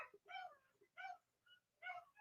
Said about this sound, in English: Can y'all hear these dogs howling in the background?